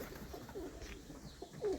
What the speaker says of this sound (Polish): Zobaczcie tutaj gołąbki są pod wolierką taką małą.